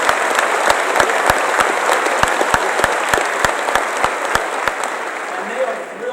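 Audience applause at a 2002 Macworld keynote, a dense wash of many hands clapping with sharp rhythmic knocks cutting through, fading slightly at the end.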